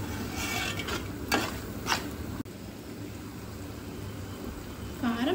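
Masala paste of ginger, garlic, green chillies and onion fries in a pan, giving a steady low sizzle with a few sharp scrapes and clinks from stirring against the metal.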